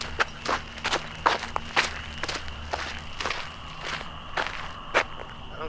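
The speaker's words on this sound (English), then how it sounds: "There's still this thing walking right there." Something walks nearby, about a dozen crisp footsteps at a steady, unhurried pace with slight variations in loudness, heard alone with no voices.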